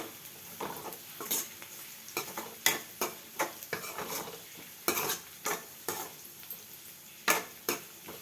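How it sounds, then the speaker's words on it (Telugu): Onions and crushed garlic fry in a pan for a Telangana-style amaranth-leaf curry, with a soft steady sizzle broken by repeated sharp scraping clinks as a spoon stirs the pan. "ఆనియన్స్ కూడా వేగాక కొంచెం దంచిన వెల్లుల్లి వేసుకోవాలి."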